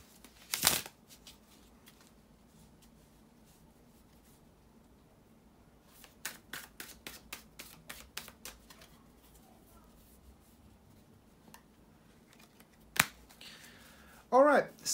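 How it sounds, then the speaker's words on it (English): Quick bursts of shuffling tarot cards, a rapid riffle of crisp flicks, separated by quiet pauses, with a voice briefly at the end. "bear with me a second, guys, to shuffle the tarot cards"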